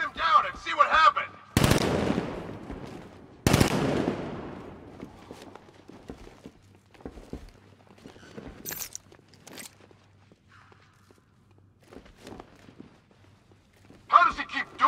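Gunfire in the Batman Arkham Knight video game, with two loud sharp bursts of shots early on and scattered quieter impacts and footsteps afterward, and game voices talking around them.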